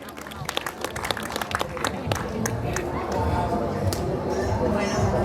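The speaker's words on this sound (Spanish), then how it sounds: "Fuerte los aplausos para ella," Applause for a woman welcomed at a baptism gathering, with a burst of close hand claps early that settles into a steady mix of crowd noise and voices.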